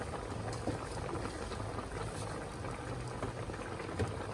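A pot of Visayan vegetable soup boils steadily as leaves such as galay, lakbati and kamunggay are pushed under, giving a continuous low bubbling rumble with soft liquid churning throughout.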